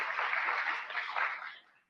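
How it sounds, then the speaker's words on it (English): An audience claps for donors and sponsors at a book event, a dense, even burst of applause that holds for under two seconds before tapering off. "let's give them and all of our sponsors a round of applause"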